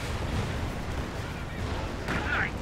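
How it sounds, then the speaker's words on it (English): White phosphorus mortar barrage in the strategy game Company of Heroes 2, a dense continuous rumble of overlapping explosions with a brighter crackling burst near the end. "And here comes mortar cover with White Phosphorus."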